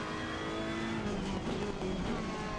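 A BMW race car engine in a racing video game at Brands Hatch, a continuous loud droning whine with steady harmonic tones and slight pitch shifts, with no speech over it.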